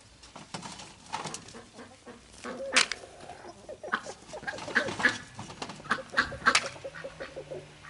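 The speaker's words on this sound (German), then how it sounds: "Ich habe jetzt 2, 3 junge Hühner." Young chickens cluck and make short calls close by in a garden, in irregular bursts with a few sharper peeps. Faint background noise runs underneath.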